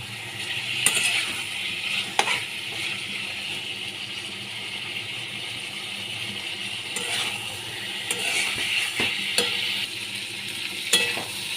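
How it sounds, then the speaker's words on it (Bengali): Yardlong beans, potato and pointed gourd fry in a pan with a continuous close sizzle, broken by occasional scrapes and clinks of a utensil stirring against the metal. "সবজিগুলো দিয়ে ভালো করে এবার কষিয়ে নিতে হবে"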